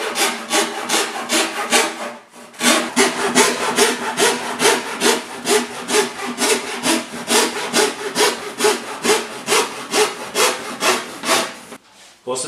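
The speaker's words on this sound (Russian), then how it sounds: "Начинаем пилить." A hand saw cuts through wood for a furniture drawer in loud, close, rhythmic back-and-forth strokes, with one short pause early on and a fade near the end.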